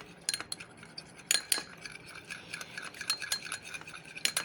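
A spoon stirs rose water into aloe vera gel in a small bowl, making a quiet series of irregular clinks and scrapes against the container with no speech.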